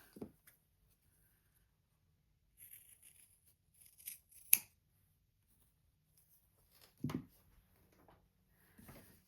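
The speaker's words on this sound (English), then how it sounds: "I am going to cut those corners off" Scissors snip fabric corners in a few short, separate cuts, quiet and close, with sharp metallic clicks and long silent gaps between them.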